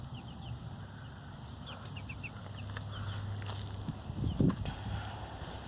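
Chickens cluck and call softly in a garden, a scattering of short calls over a steady low outdoor hum, with one louder burst near the end.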